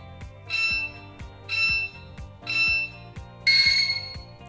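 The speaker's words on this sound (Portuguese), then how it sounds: "Nos 3 últimos segundos ele vai bipar." Four evenly spaced electronic beeps from an LED timer panel counting down its last seconds, the last one longer and brighter, sounding over a faint rhythmic background pulse.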